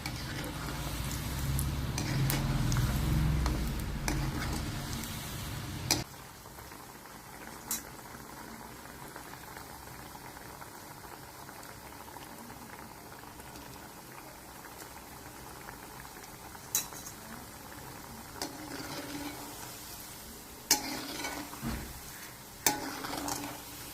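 Shankarpali frying in ghee in a pan, bubbling steadily with a hiss and occasional clinks of stirring against the pan; louder boiling in the opening seconds, then a softer sustained sizzle.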